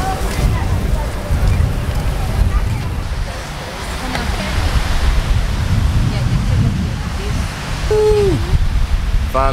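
Surf rolls in at Panama City Beach, Florida: a steady broadband wash of breaking waves, close and continuous, with wind buffeting the microphone and a brief sound near the end that may be a voice or a gull.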